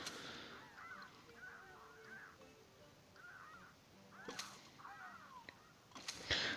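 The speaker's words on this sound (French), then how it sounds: "le cri qu'ils font, ces mouettes, c'est fou" Seagull zombies in Plants vs. Zombies 2 give several faint, squawking cries spread through a busy game soundscape, followed by a couple of sharp hits near the end.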